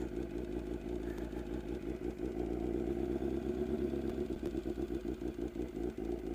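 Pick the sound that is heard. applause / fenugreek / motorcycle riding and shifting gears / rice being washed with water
motorcycle riding and shifting gears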